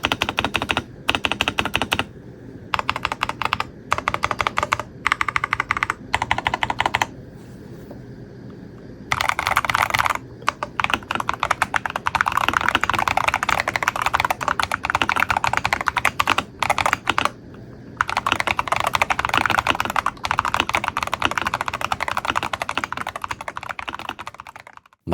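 Fast, crisp clacking from an Epomaker retro mechanical keyboard, close and loud, comes in dense bursts of keystrokes separated by short pauses, with no voices.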